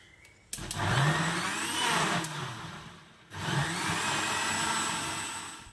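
A kitchen blender whirs through mango shake with sugar in two steady bursts, a short pause between them, loud and close with no voices.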